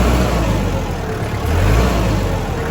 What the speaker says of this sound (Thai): นี่นะครับผมคันเร่งก็โอเคส่งสนองได้ดีนะครับผม